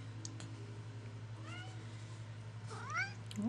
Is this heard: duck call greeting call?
no